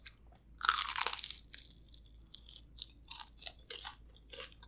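Loud crunching bites into a crisp egg roll, followed by several softer chewing crunches in an irregular rhythm, close up.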